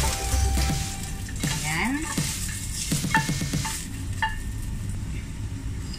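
Ginger sizzles in a pan for pork adobo: a steady hiss of frying with stirring scrapes, under a voice speaking briefly and chirpy vocal sounds.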